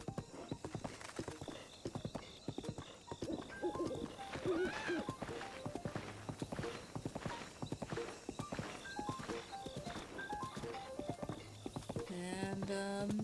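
Horse hooves clip-clop steadily in Breath of the Wild, a quick rhythmic trot close by with a brief whinny, and game music plays softly underneath.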